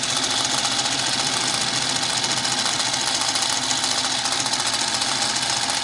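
Singer Model 221 Featherweight sewing machine running steadily on a new V-belt, a fast, even mechanical whir and clatter held at constant speed from start to finish, close and alone.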